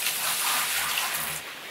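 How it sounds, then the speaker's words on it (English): Water scooped with a bucket in the mining game Gold Rush: The Game, a steady close splashing pour of water lasting a couple of seconds and easing off toward the end. "Scoop it in the water and then just scoop it back in here."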